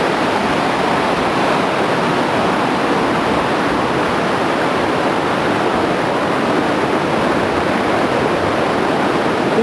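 Muddy, knee-deep stream water in the Crivadia gorge after a summer rain rushes loudly and continuously, a close, dense wash of flowing water with no voices.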